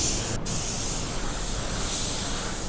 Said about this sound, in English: Now here's how you can tell if the gun is over atomizing, if it's spraying too dry.